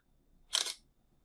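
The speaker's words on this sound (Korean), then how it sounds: "이런 셔터 소리라든지" A camera shutter sound effect from a smartphone video app plays once as a single crisp, bright click-and-whir, brief and clean against near silence.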